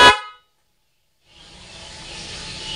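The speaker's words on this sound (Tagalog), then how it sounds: "kailangan kapag sinwitch ko to, tutunog na yung busina natin." A single short blast from a musical car horn device sounds loudly at the start, then silence, followed by a rising hiss.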